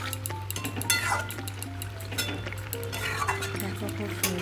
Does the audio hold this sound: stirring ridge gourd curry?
yes